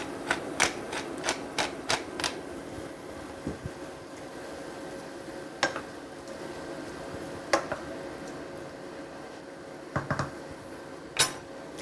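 A pepper mill grinds pepper into a cooking pot in a home kitchen, giving faint, scattered dry clicks and short crackly bursts over a low steady hum.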